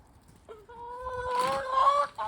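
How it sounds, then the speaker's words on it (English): A hen clucks close by, a rising drawn-out cackle with a few throaty notes, alone and fairly loud. "That's not a rooster, that's a hen."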